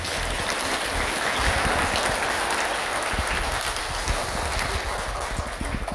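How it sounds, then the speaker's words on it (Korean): Audience applause at a New Year Hwaeom Dharma service at Hwaeomsa Buddhist temple, dense sustained clapping from a large crowd filling the whole stretch, fading slightly at the end. "좋은 음악을 오랫동안 들으십사라는 기원의 박수를 한번 부탁드립니다"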